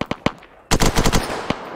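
In ArmA 3, rapid gunfire cracks out in close bursts, first a few spaced shots and then a dense automatic volley, followed by a couple of trailing single reports.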